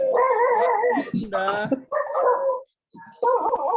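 A dog barks and yips in a series of sharp, close, fairly loud bursts with brief whimpering pitch changes, separated by short pauses, and a voice speaks briefly nearby.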